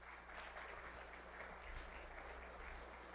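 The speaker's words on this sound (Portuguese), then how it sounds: "mais uma salva de palmas, pessoal" An audience at an industrial panel session gives a round of applause, heard as faint, steady, distant clapping under a low electrical hum.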